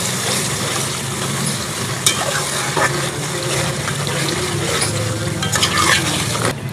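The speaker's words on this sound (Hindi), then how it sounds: "डालने के बाद इसको भून लेंगे।" Steady loud sizzling of taro root frying in masala in a pan, with occasional scraping and stirring clicks from a spoon.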